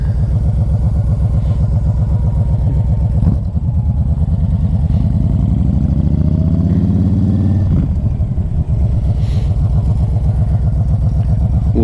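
A 2010 Honda Stateline motorcycle engine pulls hard through first and second gear, its rising revs climbing in steady sweeps with short dips at each shift, loud and close throughout.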